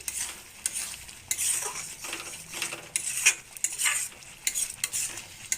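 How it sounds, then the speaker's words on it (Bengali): A utensil scrapes and clinks against a pan while taro leaf bharta is stirred, giving irregular bursts of scraping over a soft sizzle, close up and with no voices. "নেড়ে দিলাম।"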